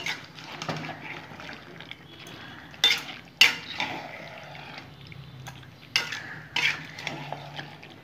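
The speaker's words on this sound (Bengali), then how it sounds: "এখানে ক্যাপসিকাম আর মটরশুঁটিটা দিয়ে দেবো, নাড়াচাড়া করে নেব।" Capsicum and peas being stirred into chicken in a pan, quiet background sizzle punctuated by a few sharp metallic scrapes and clinks of a spoon against the pan, no voices.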